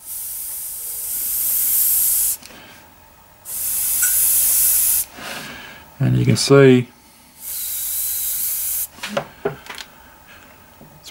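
Iwata HP-M1 airbrush spraying with the air pressure raised to about 30, giving loud, close bursts of steady hiss that start and stop several times, with someone talking briefly between bursts.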